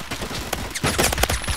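A Tech 9 fires from the hip in Phantom Forces, a rapid burst of several sharp, close gunshots in an uneven rhythm, loud and dense with no talk over them.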